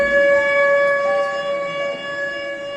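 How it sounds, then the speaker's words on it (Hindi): A loud school siren holds a steady, unwavering tone throughout, a sustained electronic wail with no other sounds. "सायरन बज गया है"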